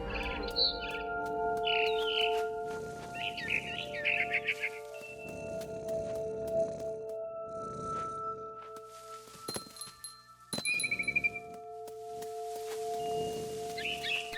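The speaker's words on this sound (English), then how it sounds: "Then I heard chirping outside my window. It was a barn swallow going back to her nest." Bright, high barn swallow chirps from a video game come in short bursts over a steady synthetic hum, with a few sharp clinks and thumps near the end.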